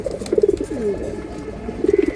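Breeding pigeons at a pigeon seller's coo in two short pulsing bursts, one early and one near the end, close by with a quieter gap between and no talking.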